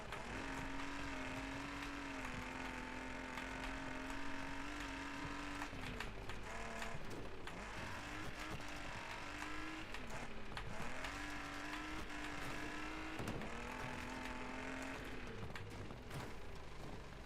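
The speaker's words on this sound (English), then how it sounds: "I do actually very much like how the damaged engines sound different" Damaged racing car engines in the video game Wreckfest 2, a steady, strained engine drone rising and falling with gear changes and throttle, rough and continuous, fairly quiet, with no voices over it.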